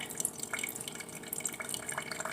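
Coffee is being made, with soft steady dripping and trickling liquid that keeps going quietly throughout the clip.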